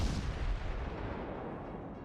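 The tier 2 Russian cruiser Novik firing its guns in World of Warships, a single deep booming blast at the start that rolls off into a long fading rumble.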